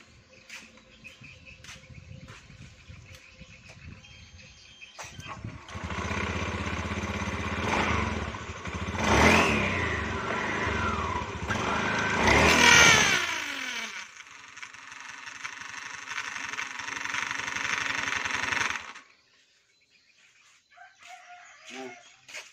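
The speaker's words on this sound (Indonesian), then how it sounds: "kita lanjut, hidupkan dulu motornya." A CVT motorbike engine starts and revs, its broadband roar rising and falling over about thirteen seconds before settling into an idle, with a rooster crowing nearby over the engine noise.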